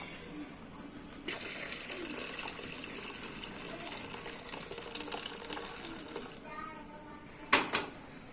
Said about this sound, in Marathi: डाळीमधले हे पाणी पुन्हा आपण पातेल्यामध्ये काढून घेऊयात